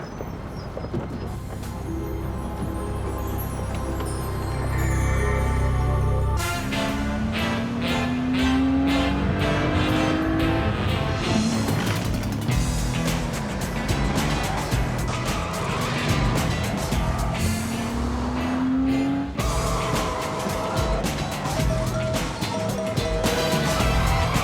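A Porsche Boxster sports car engine climbs in pitch through two loud accelerating sweeps, set against a dense, busy, music-like backdrop with no talking.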